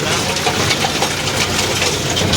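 A Powertrac tractor engine runs while pulling a rotavator in a field, a loud, continuous broadband drone that holds steady and close for the whole moment, with no voices.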